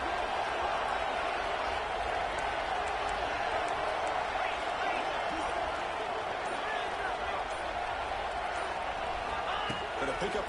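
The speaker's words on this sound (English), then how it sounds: "this crowd is fired up. Listen to this noise here." Loud, steady roar of a fired-up crowd filling a football stadium early in a game, a dense continuous wash of cheering and noise with commentary talk running over it throughout.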